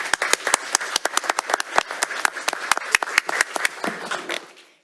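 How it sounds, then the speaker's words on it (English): A small group of hands clapping for children at a school district board meeting, sharp separate claps in an uneven rhythm that fade out near the end. "huge round of applause."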